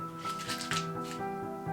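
A paper twenty-dollar bill is crumpled in the hands, giving a few close, crisp crackling bursts over a faint background hum.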